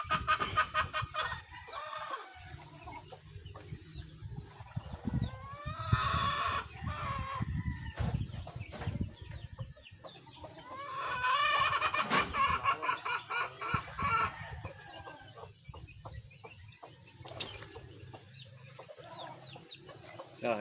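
Chickens cluck and chirp steadily around a Philippine backyard coop, with rooster-like calls and fowl voices rising and falling, near and fairly loud throughout, with no talking.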